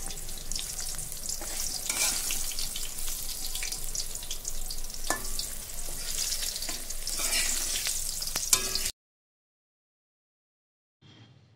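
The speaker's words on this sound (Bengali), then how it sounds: "তো লাল লাল বেগুন ভাজা আমাদের রেডি" Eggplant slices fry in hot oil in a pan with a steady close sizzle and occasional stirring for about nine seconds, then the sound cuts out, leaving a brief faint return near the end.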